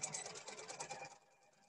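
A sewing machine stitches back and forth on a ribbon skirt, a quiet rapid mechanical whir that runs briefly and then stops.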